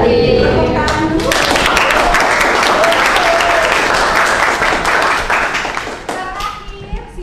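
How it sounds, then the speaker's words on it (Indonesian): A school class claps loudly for a presenting student group, the applause building to a dense, close burst of hand clapping with children's voices, then fading off. "Tepuk tangan dulu."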